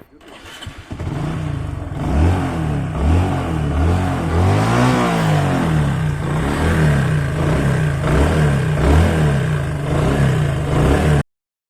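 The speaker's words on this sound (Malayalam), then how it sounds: "ഇനി നമുക്ക് വണ്ടി ഒന്ന് സ്റ്റാർട്ട് ചെയ്തിട്ട് അതിൻ്റെ എൻജിൻ സൗണ്ടും കൂടെ ഒന്ന് കേട്ട് നോക്കാം" A 2019 Hero Glamour motorcycle engine starts after a brief crank, then settles into a loud, steady single-cylinder idle with a short rise in revs midway, close to the microphone.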